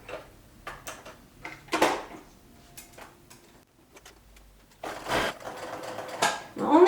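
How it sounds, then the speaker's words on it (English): A sewing machine stitches across the seam of a mesh wash bag in short bursts, clattering runs separated by pauses and small handling clicks, with one longer, louder stretch near the end. "I am going to stitch across that seam."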